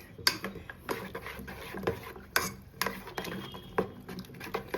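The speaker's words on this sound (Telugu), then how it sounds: "గరిటె తీసుకుని మొత్తం మిక్స్ ఇట్" A ladle stirs Ugadi pachadi mixture in a pot, giving a series of close scraping and clinking strokes at an uneven rhythm with brief pauses between them.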